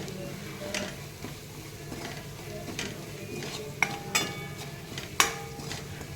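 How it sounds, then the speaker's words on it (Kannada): Spices and salt stirred into ginger garlic paste frying in a pan for a pea curry, with steady scraping stir strokes, a few sharp metallic clinks of the spoon against the pan, and a faint low sizzle underneath. "ಸೊ ನಾನು ಇದಕ್ಕೆ ಈ ಸ್ಪೈಸಸನ್ನು ಮತ್ತು ಉಪ್ಪನ್ನು ಹಾಕ್ತಾಯಿದ್ದೀನಿ. ಇದನ್ನು ಚೆನ್ನಾಗಿ ಫ್ರೈ ಮಾಡ್ಕೋಬೇಕು."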